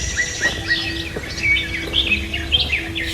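Several birds chirp and tweet among trees with yellow flowers in The Gardens neighborhood of Dubai, short bright calls repeating close by over a low outdoor background, no talk.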